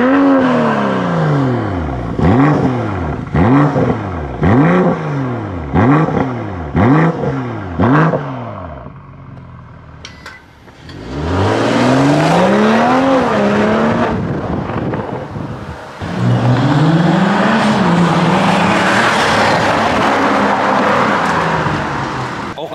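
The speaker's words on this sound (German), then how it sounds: "Und Sound ist auch gut, jetzt brabbelt der auch schön, ne? Jetzt haben wir so leichte Burbles" BMW M440i G26 with an HJS downpipe and sport air filter revving hard in a series of rapid, loud blips, then longer full-throttle runs with crackling exhaust burbles close by.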